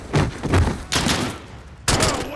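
Heavy, booming gunfire from Call of Duty: Modern Warfare comes in three loud close bursts separated by short gaps, each with a thick low-end thump and a rough tail.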